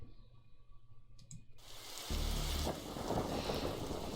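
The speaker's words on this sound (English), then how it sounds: "Standard evil storm." Rain and thunder from a storm in The Darkside Detective start up midway, with a rumbling swell and steady rainfall after a quieter stretch of faint tones and clicks.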